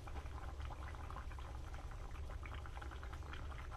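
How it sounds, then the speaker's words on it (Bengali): A steady, close bubbling and sizzling simmer of spicy rui fish curry in a pan as chopped home-grown garden tomatoes go in, the boiling hiss continuous throughout with no talk over it. "সেই বাগানের, ভাবির হাতের বাগানের টমেটো, সেটা আমি ডুম ডুম করে কেটে নিয়েছি, সেটা আমি এখন এখানে অ্যাড করে দিচ্ছি"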